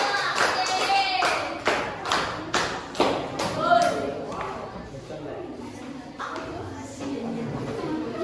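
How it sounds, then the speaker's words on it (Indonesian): A classroom group claps for a team walking to the front, giving a few loud irregular hand claps and thumps close by, mixed with a teacher speaking. "Ayo silakan kelompok lemah maju ke depan. Kita berikan aplaus."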